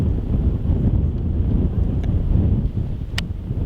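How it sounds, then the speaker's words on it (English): Strong gale-force wind gusting across the airfield at RAF Mildenhall, a continuous loud buffeting roar against the microphone with no voices. "absolutely blowing a gale here"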